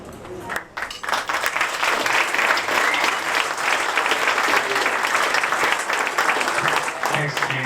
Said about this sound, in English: I think if we can give Janine one more round of applause for the fantastic work she's doing.